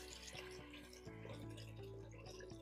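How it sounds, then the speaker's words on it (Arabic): Water is poured into a pot of macaroni soup with parsley in it, a continuous splashing, bubbling fill under steady low hum, moderately close with a few sharper plinks along the way. "ونزيدو الماء"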